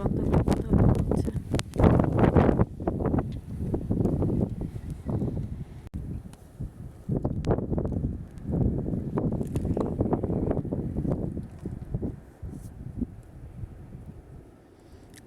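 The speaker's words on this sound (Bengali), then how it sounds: "প্রচণ্ড বাতাস" Strong gusts during a snowstorm in Syracuse, upstate New York, batter the microphone in loud, uneven rumbling bursts that rise and fall over several seconds.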